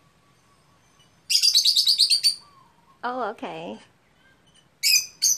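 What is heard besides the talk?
birds chirping in Hawaii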